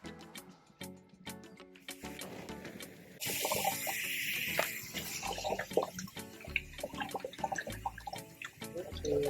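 Water runs from the tap of a Cabela's camping fillet table sink, a steady splashing hiss that swells midway as the flow strengthens, with hands washing under it and occasional clatter nearby.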